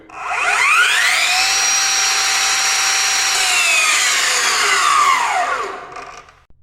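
A cordless Bosch PROFACTOR 18V 12-inch miter saw spins up to a high, steady motor whine close by, holds it for several seconds, then winds down, with wood on hand for cutting.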